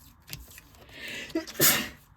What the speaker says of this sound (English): Ah, sneezed.